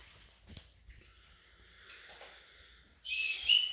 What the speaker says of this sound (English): then we have recall on the whistle